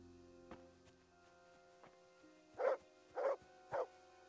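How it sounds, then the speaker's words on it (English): Three quick barks from a dog in the video game Kingdom Come Deliverance, in the A Woman's Lot DLC, come in a tight, evenly spaced burst after faint clicks and soft ambient game sound, fairly close and alone. "He barked."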